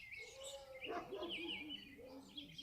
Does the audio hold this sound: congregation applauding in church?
no